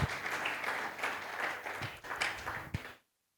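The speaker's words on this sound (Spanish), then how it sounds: "Dale fuertes palmas al que vive y reina para siempre." A church congregation claps loudly and steadily in a dense wash of applause, voices faintly mixed in, before the sound cuts off abruptly near the end.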